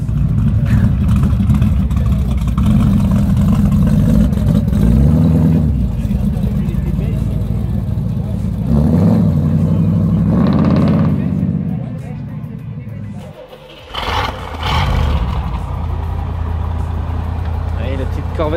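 A Chevrolet Camaro's engine revs hard outdoors at a charity car meet, a loud, steady mid-pitched roar with surges around five and ten seconds, briefly dipping near thirteen seconds before resuming.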